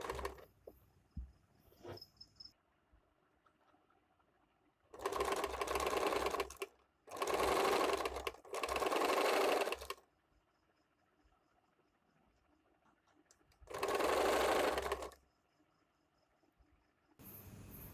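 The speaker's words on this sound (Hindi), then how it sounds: "मिलाने के बाद ही आपको ये सिलाई लगाना है।" A sewing machine stitches lace in four separate bursts of steady whirring, each one to two seconds long with quiet pauses between, close and clear with no talking.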